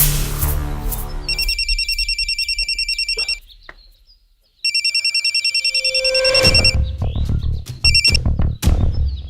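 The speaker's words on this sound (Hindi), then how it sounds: "वो भुल्लर अंकल, उनको फोन करके देखिए" An electronic phone ringtone trills loudly in two rapid repeating bursts separated by a pause, followed by handling noises and clatter.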